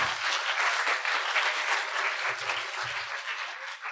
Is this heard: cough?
no